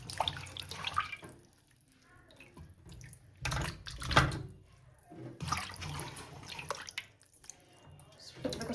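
Tap water splashes intermittently over raw chicken being washed in a sink, close and fairly quiet, in irregular bursts and trickles with soft handling noises between.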